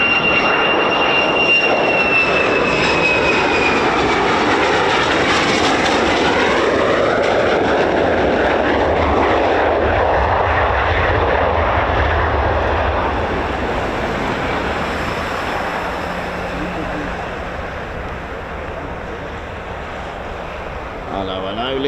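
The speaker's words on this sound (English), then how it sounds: "look at that, more F-35s. Are they taxiing out?" Jet noise from F-35 fighters taxiing at RAF Lakenheath, a loud continuous roar with a rising whine early on that slowly eases and fades toward the end, with no talking over it.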